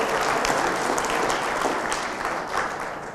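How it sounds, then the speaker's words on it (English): A live audience gives a round of applause for New York, dense close clapping that swells loudly and then gradually tapers over a few seconds. "A round of applause for New York."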